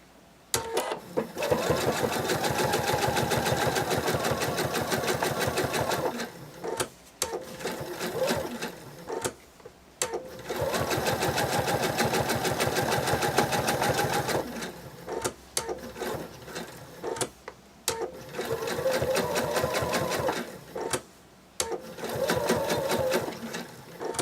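A sewing machine stitches around the tail spike of a small dragon plush, whirring in long steady runs with brief stops and a quick back-and-forth reverse, close and prominent, without speech.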